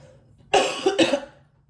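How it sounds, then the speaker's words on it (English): A person coughs twice in quick succession, close and loud, with a brief quiet before and after. "I'm coughing again."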